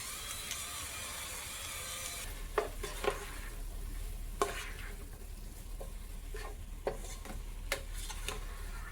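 Vegetables for a vegan sweet potato chili sizzle softly in a pot, with occasional sharp clicks of a spoon stirring against the sides, quiet and close with no talk.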